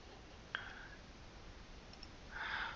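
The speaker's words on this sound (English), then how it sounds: "We just go back a bit, click on the wrong button." A computer mouse gives a sharp single click in a quiet room, followed by faint soft clicking and low background hiss.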